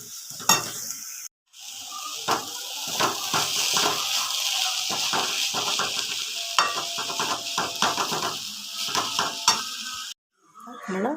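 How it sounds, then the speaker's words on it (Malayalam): Grated coconut and masala are stirred and roasted in a pan, a close sizzle punctuated by a busy rhythm of metal spatula scrapes and clatters, with short pauses and no speech. "നന്നായി മിക്സ് ചെയ്ത് നന്നായി തേങ്ങക്കൊരു മൂത്ത് വരുന്നത് നമുക്ക് നന്നായി അയറ്റിയെടുക്കണം."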